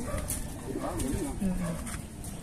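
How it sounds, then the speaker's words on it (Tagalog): A young racing pigeon coos softly a few times in a loft, its low murmuring calls close by, with a person talking over them. "Young bird yan eh."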